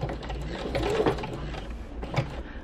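A home sewing machine stitches around the edge of a fabric postcard, giving a steady, close, mechanical whir with faint ticking, with no talking over it.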